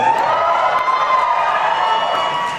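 Audience at an anime convention closing ceremony cheering and shouting in a steady, loud crowd roar that holds throughout.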